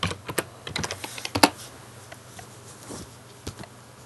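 Keystrokes on a computer keyboard while typing into a Windows PC search box, a quick burst of clicks that thins out into a few isolated taps, close and clear with no talking.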